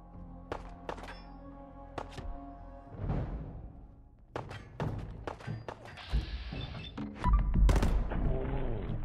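Gunfire in Fallout 4 comes as a string of sharp, separate shots with a few heavier thumps and rumbling impacts between them, loud and close, with no talking over it.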